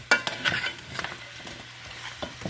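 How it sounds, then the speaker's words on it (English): A spoon stirs oxtail in a pot: several quick scraping, clinking strokes against the pot over a soft sizzle, close and fairly quiet, with no talking. "let's go back to the pot. And I'm going to stir it"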